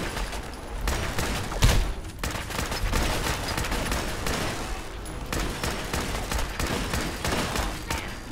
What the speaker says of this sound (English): Shoot him in the brain!